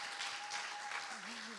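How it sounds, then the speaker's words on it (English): Steady applause from a talent show audience fills the room as a dense, even wash of clapping, with a faint voice rising briefly underneath near the end. "Give yourselves a round of applause for coming out."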